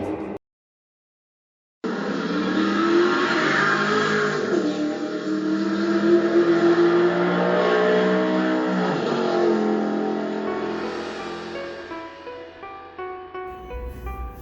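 Two 1/32-scale Jada diecast toy cars race on a track, heard as a loud, steady synthetic engine roar and revving, likely from a toy's sound unit, that winds down near the end, with no talking.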